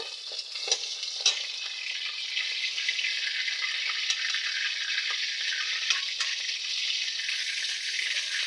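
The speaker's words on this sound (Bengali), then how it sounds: "আমি পাবদা মাছটা বেশি ভাজবো না, হালকা করে ভেজে তুলে নেব" Pabda fish frying lightly in hot oil, a steady bright sizzle that runs the whole time with a few sharper pops and spatters, close and even, no voices.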